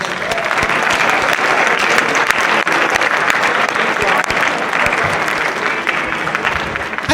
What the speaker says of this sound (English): can you guys give your parents and all the people out in the audience a round of applause